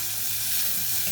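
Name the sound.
bacon sizzling in a frying pan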